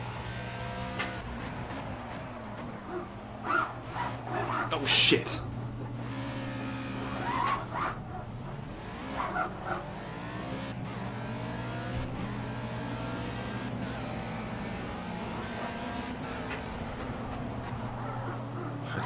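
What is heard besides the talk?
LMP3 race car engine and skidding, from the video game Project CARS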